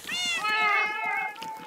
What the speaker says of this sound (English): Cats again.